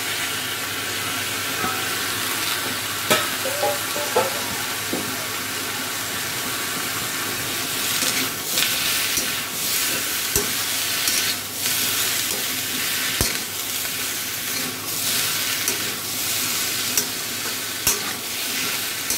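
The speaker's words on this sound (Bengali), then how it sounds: "এখন আমি দিয়ে দেব এঁচোড়টা যেটা কাটা রাখা আছে, একটু ভেজে নিলে তারপরে মশলাগুলো দেব কষানোর জন্য।" Green jackfruit fries in a pan for a prawn curry, a continuous close sizzle broken by repeated scraping and sharp clicks of a spatula stirring the pieces, with no one speaking.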